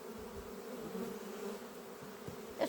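Faint steady buzzing of many honey bees at a hive in an apiary, a low continuous drone with occasional individual insects passing closer.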